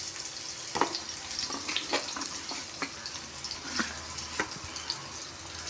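Tofu paneer fries in oil in a pan, giving a quiet, steady sizzle broken by soft clicks and scrapes as the pieces are stirred and turned.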